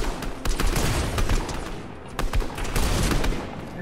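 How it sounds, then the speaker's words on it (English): Gunfire in a Fortnite no-build match: bursts of rapid shots crackle in and out over a noisy, dense background, loud and steady across the few seconds with no voices. "There's people shooting from somewhere."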